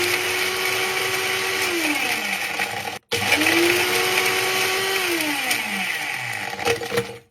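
A blender grinds up glass bottles, four in all, its motor roaring loud and steady with pitch sweeping down as the jar churns, cutting out briefly at three seconds before starting again and winding down at the end.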